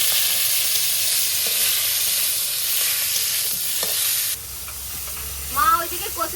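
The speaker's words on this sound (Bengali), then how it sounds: "এখন ভাজিয়ে নেবো।" Pieces coated in turmeric and salt fry in hot oil in a wok, giving a loud, continuous sizzle that drops off abruptly partway through, leaving faint stirring and a few high squeaks.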